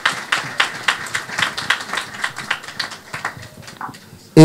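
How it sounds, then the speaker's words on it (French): Congregation at a back-to-school church service clapping in quick, uneven bursts, close and fairly loud, tapering off over about four seconds before an abrupt noise cuts in. "Les acclamations, les acclamations."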